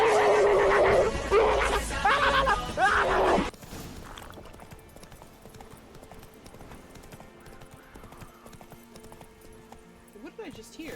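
Roach the horse in Witcher 3, with a loud burst of neighing and hooves over music and a voice at the start, then a softer steady galloping clip-clop continuing at a distance.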